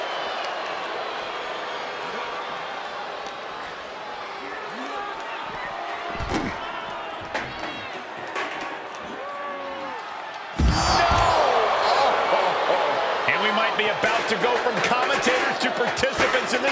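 In a televised Andre the Giant wrestling match, a wrestler is thrown onto the mat with heavy thuds under steady commentary, and a loud crowd roars up right after the second impact.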